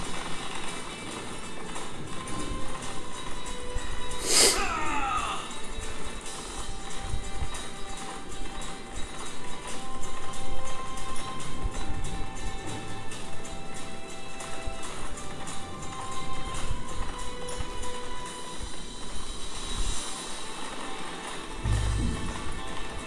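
Horses gallop in a historical TV drama battle scene, a steady rumbling clip-clop of hooves running through the whole stretch, with a brief neigh near the start and dramatic background sound mixed in.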